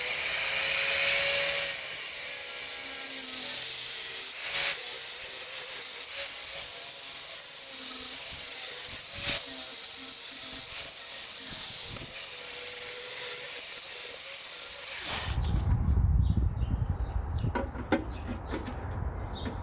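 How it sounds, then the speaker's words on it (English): Angle grinder or sander working steadily on metal drain hole patches of a Jeep YJ body, a loud continuous abrasive rasp for about fifteen seconds, then a lower, rougher burst of grinding near the end. "So I'm going to grind all these away, then see if I can weld them on"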